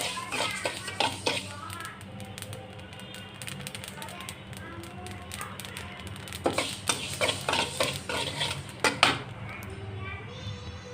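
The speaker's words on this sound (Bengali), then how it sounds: "কালিজিরাটা নেড়ে চেড়ে ভেজে নিলাম ভাজা হয়ে গেছে পুটপুট করে শব্দ হচ্ছে" Black cumin seeds fry and get stirred in a pan, giving small crackling pops and scraping clinks throughout, with a denser burst of sharp taps near the end over a steady low background hum.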